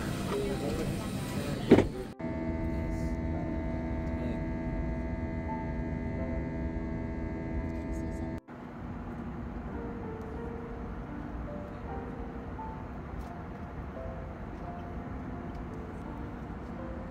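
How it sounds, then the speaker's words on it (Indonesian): Steady low airplane cabin hum and engine drone fill the space throughout, with a couple of abrupt clicks and shifts in the background tone. "Kita sudah berada di dalam pesawat."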